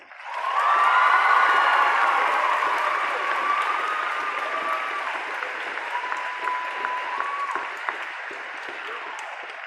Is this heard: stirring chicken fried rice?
no